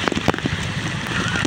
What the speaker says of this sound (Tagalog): Oh! Yung saan lakas ang ulan mga kagros.